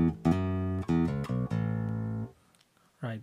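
Harley Benton PB Shorty bass with tone and volume fully up, played through a Zoom G1Four, rings out in a few sustained plucked notes and a long held tone, then fades into a brief spoken word near the end.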